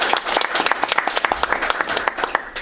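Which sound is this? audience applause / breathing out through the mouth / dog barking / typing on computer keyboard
audience applause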